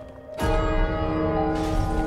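A large bell struck in the video game It Takes Two, one sudden loud clang that rings on with a bright metallic sustain.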